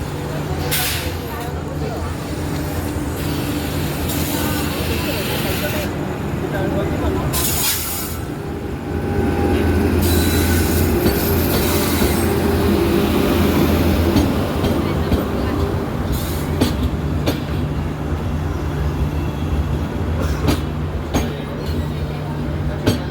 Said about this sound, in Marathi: आता ट्रेन आलेली आहे